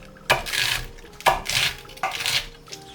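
A knife cuts cabbage into 1 cm strips on a cutting board. Three separate crisp crunching strokes land about a second apart, each ending in a knock of the blade against the board, with no talking.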